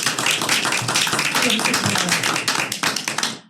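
Applause at a town Board of Selectmen meeting, a room full of people clapping steadily and fairly close for several seconds, with a few voices mixed in before it fades out.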